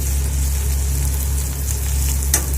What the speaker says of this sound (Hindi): बॉईल करने के बाद इसको खाली फिर हल्का सा फ्राई कर रही हूँ